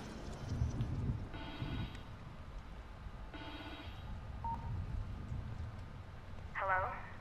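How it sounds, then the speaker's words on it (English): In the video game The Evil Within 2, a walkie-talkie buzzes like a phone in repeated electronic ringing bursts against a low ambient drone, and a voice speaks over the sounds. "It's a weird looking phone buzzing though"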